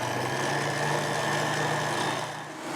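A Kenwood Prospero stand mixer whisking egg whites at low speed, a steady close motor whir with a constant mechanical hum, fading slightly at the end.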